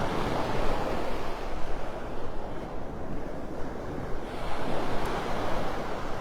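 Ocean waves and surf wash steadily along Delnor-Wiggins beach in North Naples, Florida, a broad continuous roar of water with wind buffeting the microphone, loud and close, with no voices.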